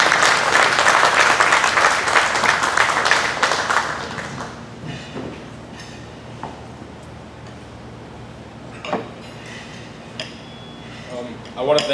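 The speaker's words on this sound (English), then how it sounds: "please give a round of applause to Zachary Charneco of Jesuit High School" Audience applause for Jesuit High School scholar-athlete Zachary Charneco at a sports foundation award event, loud dense clapping for about four seconds that fades into quiet room noise with a few scattered claps.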